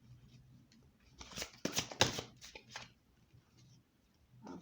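Oracle cards are riffled and shuffled in a couple of quick, crisp bursts of papery flutter close by, with quiet pauses and a soft slap of cards at the end.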